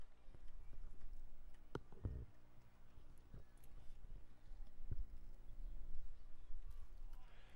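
Harness racing horses break from the start at Kawartha Downs, their hooves landing in scattered thuds and clops over a steady wash of broad track and crowd noise.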